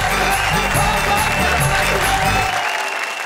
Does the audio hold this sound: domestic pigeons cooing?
no